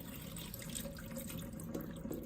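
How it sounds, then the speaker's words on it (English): Water drains from washed rice, running and splashing steadily into a sink, a continuous close hiss of pouring liquid with small drips. "I'm just draining the last of the water."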